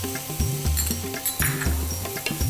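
Mushrooms, crushed garlic and chili flakes fry in a pan with a continuous sizzle, overlaid by a rhythmic stirring scrape and repeated tonal clanks of the pan at close range.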